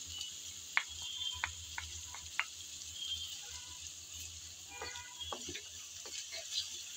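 Spice paste sizzles in a hot frying pan for a rohu fish and radish curry, a soft, steady hiss with scattered small crackles and pops.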